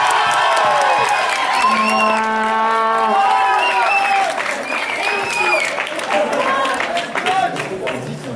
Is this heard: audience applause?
yes